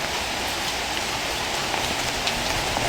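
Steady rain pours down at Vasai Fort, a dense, even hiss of drops striking the ground and surfaces all around, continuous and fairly loud with no voices.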